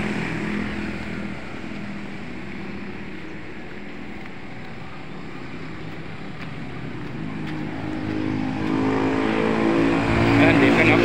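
Highway traffic rushes past in a continuous roar that swells louder near the end as a vehicle draws close, with a voice briefly heard over the noise.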